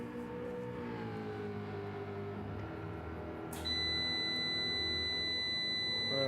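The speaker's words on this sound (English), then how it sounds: "Hearing beeping noises." A steady electronic beeping cuts in partway through over the continuous hum of a car engine during a sim-racing endurance race at the Dragontrail Seaside track, the tones holding on until the end.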